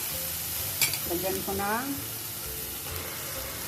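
Onions sizzle steadily in a pan in a home kitchen, a constant frying hiss under a woman's speech with a light clink of stirring.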